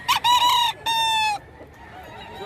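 A fighting rooster from Pampanga crows loudly and close by at a busy gamefowl market in Bocaue, Bulacan: two strong harmonic crow phrases in quick succession, followed by faint clucking and market murmur.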